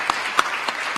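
Applause fills a homecoming awards show venue, steady clapping from an audience that keeps up evenly throughout, loud and close, with a few sharper claps standing out.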